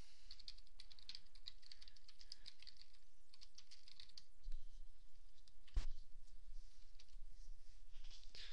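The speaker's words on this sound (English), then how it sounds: "I'm just going to type some stuff in here." Steady close typing on a computer keyboard, a continuous patter of soft key clicks with one sharper tap partway through, heard alone without speech.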